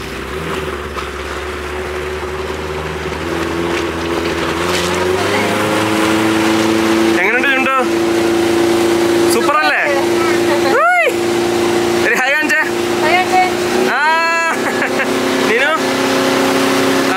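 A speedboat engine hums steadily on the Anayirangal dam reservoir, its tone rising slightly, with people talking over it in the second half.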